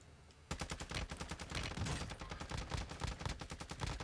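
Video game gunfire erupts suddenly after a quiet moment, rapid bursts of automatic shots in a dense, fast rhythm, loud and close, no talk over it.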